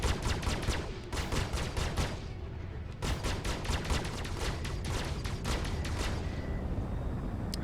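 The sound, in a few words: explosions and gunfire in video game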